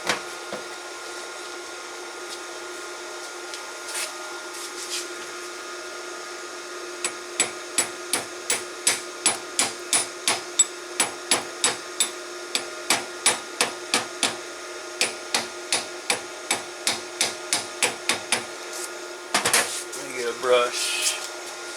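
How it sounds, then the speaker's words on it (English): A slag hammer taps sharply and rhythmically on a flux core weld, chipping off slag in around two dozen quick strikes in a steady series, over a constant background hum of machinery. "we'll knock the slag off and see what it does"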